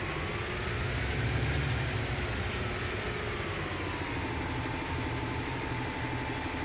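A tractor engine in Farming Simulator 19 drones steadily at close range, a loud continuous low rumble with a faint rising whine and no pauses.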